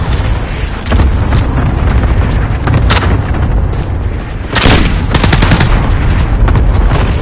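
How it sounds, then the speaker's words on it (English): Loud, dense gunfire and booming blasts from a grenade in the video game Call of Duty Modern Warfare, with bursts of rapid automatic fire and a sharp explosion around midway, all heavily saturated. "Grenade out!"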